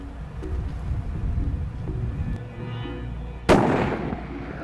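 A single sharp rifle shot fired at a Spanish ibex on a mountain hunt, loud and close, its echo trailing off after quiet outdoor background.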